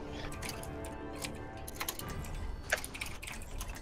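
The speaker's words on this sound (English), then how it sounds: "Angry typing" Rapid, uneven clatter of keys on a computer keyboard, typed hard and fast in short irregular bursts, fairly close and alone without talk.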